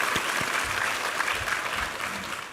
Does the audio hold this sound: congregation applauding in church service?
yes